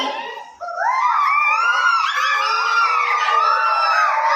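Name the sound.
children imitating a koel bird call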